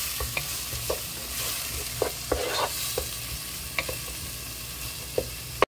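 Tomato with all its juices cooking in a pan over lowered heat for a fish sancocho, a steady close sizzle broken by light intermittent clicks and taps of stirring, with no talking.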